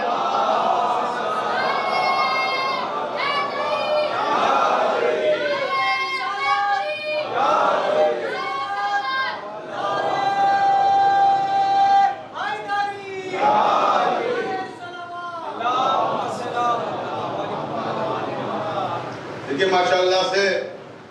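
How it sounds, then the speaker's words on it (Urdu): A crowd, including children's voices, chants religious slogans during a Muharram gathering, loud rhythmic call-and-response shouts rising and falling in waves from different directions, filling the space with dense voices. "ماشاءاللہ سے چاروں طرف سے نعرے لگ رہے ہیں، کبھی اس طرف سے، کبھی اس طرف سے، کبھی ادھر سے بچوں کی آوازیں آ رہی ہیں نعروں کی۔"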